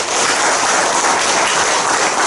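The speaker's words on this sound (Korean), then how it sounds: "맞으면 박수 한번 쳐보세요." Audience applause at a church assembly seminar, a dense steady wash of many hands clapping at full volume for the whole stretch, with no voices over it.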